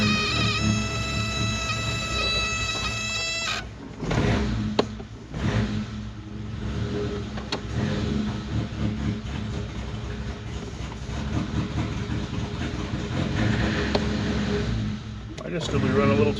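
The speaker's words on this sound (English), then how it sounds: "here's the first cold start, the new carburetor. Choke on." A 1987 Suzuki Samurai 1.3 engine, fitted with a new carburetor and with the choke on, cold-starting: a steady tonal whine for a few seconds gives way to a loud, continuous engine rumble that runs throughout.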